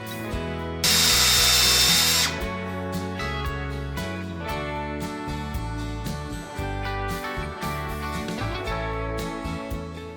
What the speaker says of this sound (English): when I drill the holes, I try to drill them, you know, deep enough that they're able to hold some suet